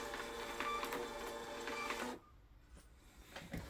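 Label printer running off eBay shipping labels, a mechanical whirring feed with clicks for about two seconds, then stopping abruptly, leaving a quiet room with faint small knocks.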